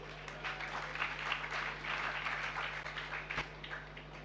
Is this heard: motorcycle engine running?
no